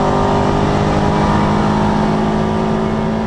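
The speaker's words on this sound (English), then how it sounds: "the two Roadsters has made their way ahead now of the Mark II as they head down the Dunlop Straight once more" Toyota MR2 race cars, Roadster and Mark II, drive down the Dunlop Straight at Donington Park with a loud, steady engine drone that holds throughout and never fades.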